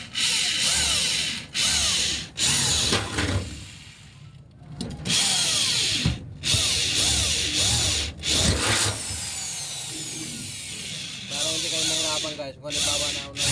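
A power drill bores a hole in a roof gutter for a downspout, giving a loud, continuous grinding whir that stops briefly several times, close by, with some rubbing and metallic scraping.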